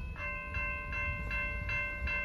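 A westbound Norfolk Southern manifest freight train approaching a grade crossing at Mulberry Road, with a steady low rumble and sustained tonal horn or bell tones pulsing in regular repeated bursts, fairly loud and without voices.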